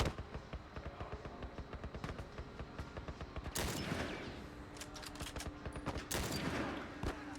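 Rapid bursts of gunfire from enemies in The Last of Us, a dense fusillade of overlapping shots with sharp repeated cracks, loud and continuous throughout with no speech.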